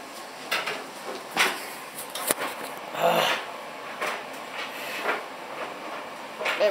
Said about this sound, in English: that's the tumble dryer rattling round